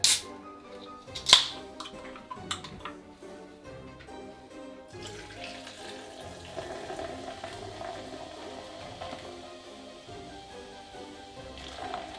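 Strongbow Cloudy Apple cider, 120 ml, is poured into a cocktail shaker: a few sharp clicks and knocks first, then a steady, even splashing pour that runs on for several seconds, with no talking.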